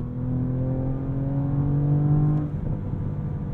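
Engine note from a 2023 Audi S7 Sport S V6 exhaust: a steady, close, loud harmonic drone that swells, then breaks off into a rougher, crackly burble as the throttle lifts on overrun.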